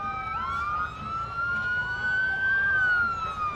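Sheriff's department vehicles in a Christmas parade in Etowah County sound their police sirens, a steady wailing tone that rises and falls over a constant rumble of crowd and traffic, heard from a moderate distance.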